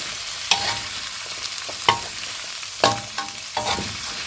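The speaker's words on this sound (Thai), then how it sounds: "กาใส่ถั่วนี่ลงไปนะคะ ผัดนะคะ" Beans stir-fried in a hot pan: a steady sizzle punctuated by several sharp scraping strokes of a spatula at irregular intervals, close and fairly loud, with no talking.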